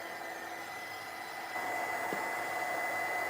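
A heat tool blows steadily over mixed-media craft work, a continuous whirring hiss that steps up louder about halfway through and then holds, close by with no talking.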